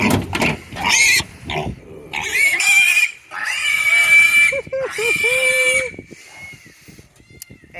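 Old Spot pigs on pasture squealing and grunting loudly in a rapid series of close, shrill bursts separated by brief gaps, with a person talking over part of the noise.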